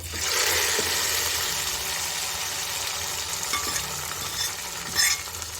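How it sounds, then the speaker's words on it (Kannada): Hot oil tempering is stirred into hotel-style rava pongal, producing a loud, continuous sizzling hiss close by, with soft stirring scrapes and a brief clink near the end. "ಈಗ ಇದಕ್ಕೆ ನಾವು ಒಗ್ಗರಣೆ ಮಾಡಿ ಇಟ್ಕೊಂಡ್ವಲ್ಲ ಅದನ್ನು ಇದಕ್ಕೆ ಸೇರಿಸ್ಕೊಳ್ಳೋಣ."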